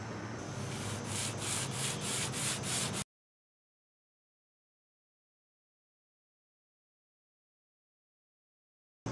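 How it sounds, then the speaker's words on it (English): Steady rubbing scrape of sanding on an Allis Chalmers 310 tractor body panel ahead of filler and paint, with rhythmic strokes for a few seconds before the sound cuts off into silence. "here goes some more hours of sanding, putting in filler, and painting"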